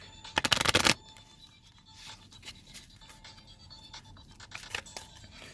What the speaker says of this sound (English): Alright, but anyway, one more shuffle.